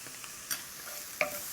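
Two pans of food sauté quietly, a soft sizzle under a couple of sharp utensil clicks and scrapes as the pieces brown and turn translucent.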